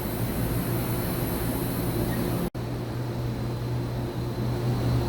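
A 2013 Mazak HCN 4000-III horizontal machining center with its axes traversing, producing a steady mechanical whir and hum with low tonal drone, broken once by a brief dropout midway.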